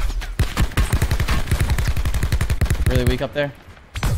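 Rapid automatic gunfire in Call of Duty: Blackout, a loud close burst of evenly spaced shots running for several seconds before breaking off, with a player's voice speaking briefly near the end.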